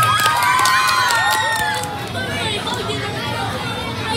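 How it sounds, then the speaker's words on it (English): An audience at an indoor team event cheers and shouts loudly with overlapping excited voices, some high-pitched like children, the burst fading to lively crowd chatter. "Give him a round of applause."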